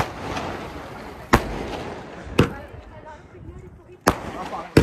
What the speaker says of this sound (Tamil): நூறு ஷாட் இருக்கும் பார்த்தா உண்மையிலே நூத்தி இருபது இருக்கும் போல வெடிச்சுக்கிட்டே இருக்கு